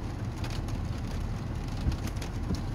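Steady rain falls outdoors on a cold, roughly 52-degree day in Portland, a dense, even hiss with scattered patters and no pauses.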